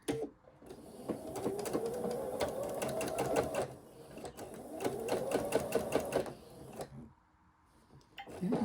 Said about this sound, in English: I'm gonna sew it